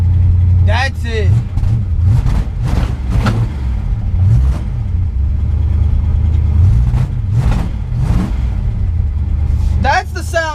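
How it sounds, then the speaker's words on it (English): An American V8 in the Inferno car, fresh from a carburetor swap, revs repeatedly over a deep rumbling idle, rising and falling in several loud bursts while someone talks excitedly over it. "That's the sound of an American V8."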